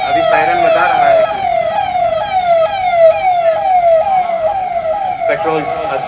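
An emergency vehicle siren wails loudly and close by in rapid, repeating falling sweeps that continue steadily throughout, with faint background noise beneath.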